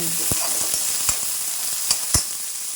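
Small onions frying in a pan with green chillies and curry leaves for a Kerala squid roast, steady bright sizzle with a few sharp stirring clicks.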